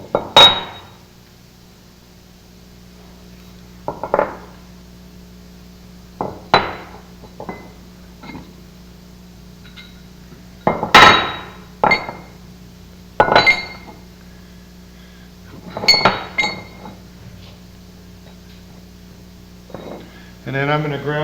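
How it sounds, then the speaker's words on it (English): Metal connecting rods from an engine rebuild are set down one by one on a workbench, a series of sharp clinks and clanks with pauses between, while someone talks nearby. "I'm going to lay the connecting rods out here in order"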